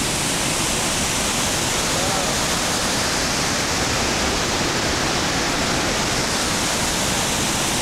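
A waterfall in Yellowstone National Park pours with a loud, steady, close rushing roar that fills the whole stretch without a break.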